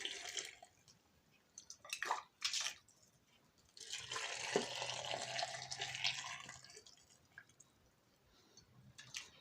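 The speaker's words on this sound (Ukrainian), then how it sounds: "Заливаю помідорчики кипятком." Boiling water is poured in bursts, splashing and gurgling into jars of tomatoes, with a longer steady pour in the middle and quiet pauses between.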